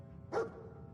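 Dogmeat, the dog companion in Fallout 4, gives a single short, sharp bark near the middle, close and clear over a low background hum.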